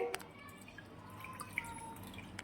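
Water drips in scattered drops from squeezed spinach, with a few light splashes, fairly close and quiet against a soft background hum.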